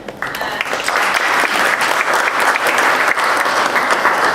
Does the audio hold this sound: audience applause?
yes